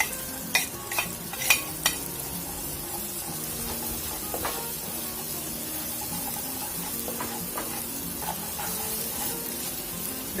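Onions frying in a pan, a steady sizzle with a few sharp clatters of stirring early on, then softer occasional scrapes under the continuous hiss.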